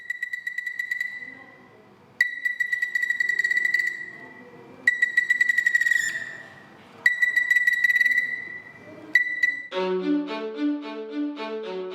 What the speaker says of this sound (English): the doll makes a cute chirping sound when you turn the head